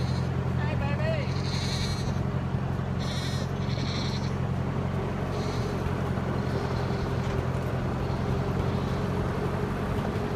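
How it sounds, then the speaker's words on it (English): Nigerian dwarf goats bleating in a pen, several short wavering cries over a steady engine hum, with a voice speaking nearby. "we got Nigerian dwarf goats"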